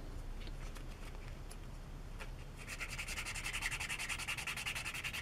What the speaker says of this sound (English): I'm just going to scratch away at this just to get rid of that line